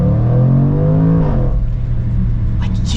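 A 2021 Jaguar F-Pace SVR accelerating hard, a loud, close engine roar climbing in pitch through the revs, then dropping into a shift and settling into a deep rumble with faint crackles.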